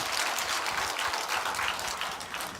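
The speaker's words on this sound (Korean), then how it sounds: "우리 멋지신 하나님께 감사 박수 한번 합시다" A church congregation claps together in sustained, dense applause during a Sunday afternoon service, loud and continuous with no speech over it.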